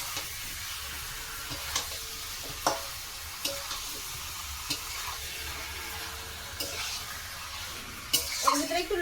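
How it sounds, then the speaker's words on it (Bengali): Meat frying and being stirred in a pan, a steady low sizzle with scattered clinks and scrapes of a spoon against the pan, a busier burst of stirring near the end. "এখন মাংসটা দিয়ে দেবো এর ভিতরে, দিয়ে ভালো করে সব জায়গা মিশিয়ে নেবো।"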